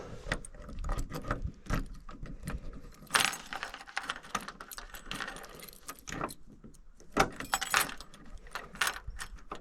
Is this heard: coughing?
no